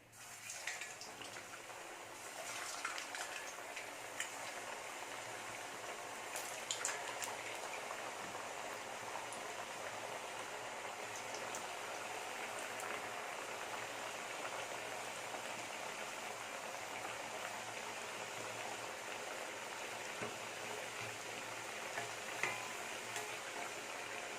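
Badusha, an Indian sweet, fries in hot oil, giving a steady dense sizzle and crackle that holds even throughout, close and moderately loud with occasional small pops.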